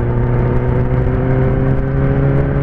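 A Kawasaki ZX10R motorcycle engine holds a loud, steady, close-up drone with strong harmonic tones that rise slightly as the throttle is worked.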